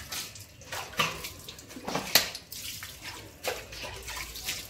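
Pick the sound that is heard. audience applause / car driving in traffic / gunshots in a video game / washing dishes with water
washing dishes with water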